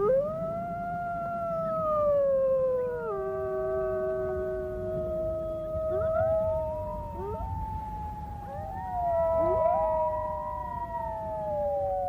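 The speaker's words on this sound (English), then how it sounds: "of all the sounds in nature, I really believe that the wolf howl is the most evocative and the most mysterious" Wolves howling in the wild, several long overlapping howls rising and falling, clear and sustained over a low rumbling background, no voices.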